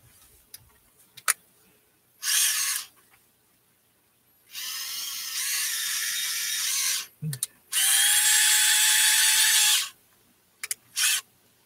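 A hand drill or small rotary tool boring a 3 mm hole in a handmade pike swimbait lure, heard as several short, sharp whirring bursts with brief clicks and pauses in between, close and fairly loud.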